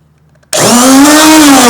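A new corded, plug-in electric router switches on after a brief quiet moment, its motor whining up to a loud, steady, high-pitched whir that holds for over a second.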